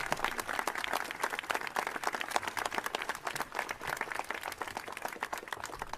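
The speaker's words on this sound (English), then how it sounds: "let's have a round of applause for these speakers" Sustained applause from a crowd at a Pride Month event at the Wisconsin State Capitol, dense clapping that holds steady and loud throughout without a break.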